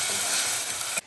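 Ginger garlic paste sizzles in a hot pan as it sautés, a dense steady frying hiss with no talk, ending abruptly.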